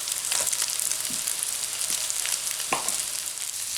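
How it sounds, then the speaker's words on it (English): Butter melting in a pan with a steady, dense sizzle and crackle throughout, close and even, with faint occasional stirring taps and no talk. "I'm going to melt a little more butter in there."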